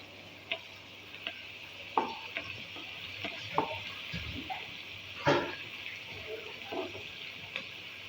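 Chopped garlic sautés in a pan for chicken Alfredo pasta, a soft steady sizzle broken by intermittent clinks and scrapes of a spoon stirring, close and fairly quiet.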